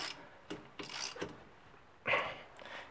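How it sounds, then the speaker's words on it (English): Ratchet with a 14 mm socket breaking loose the brake caliper bolts on a 2008 Toyota Sienna: a few short, separate mechanical clicks and clunks, close up, with a sharper louder burst near the end. "in order to break the caliper bolts loose, I'm going to be using a 14 mil socket on a ratchet"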